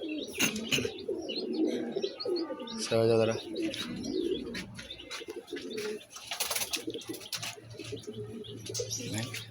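Pigeons in a loft after being bathed, cooing repeatedly close by with some chirps and light wing flutters, while someone talks over them at times.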